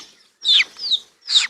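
Chickens with their chicks in a village yard give short, bright clucks in three quick bursts, close and clear with no talk over them.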